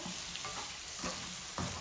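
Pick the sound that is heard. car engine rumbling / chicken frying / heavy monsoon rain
chicken frying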